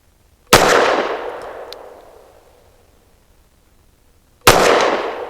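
Two loud, sharp pistol shots from a BRG9 Elite Gen 2 firing SIG 124-grain nickel-plated ammunition, spaced about four seconds apart, each with a long ringing decay outdoors.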